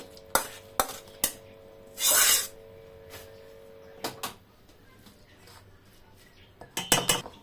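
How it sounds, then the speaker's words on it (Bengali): Cooked shrimp and vegetable curry served into a bowl: sharp metal and ceramic clinks come in separate hits, with a brief scraping rush in the middle and a quick cluster of clinks at the end. "এখন আমি বাটিতে বেড়ে নিচ্ছি।"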